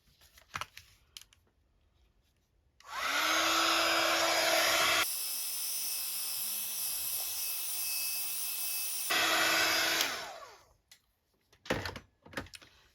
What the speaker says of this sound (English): I'm going to try again with my heat tool